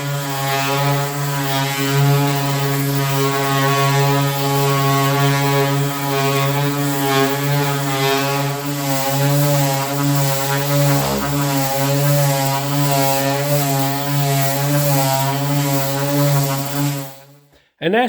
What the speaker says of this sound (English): I'm using that oscillator like a sanding block.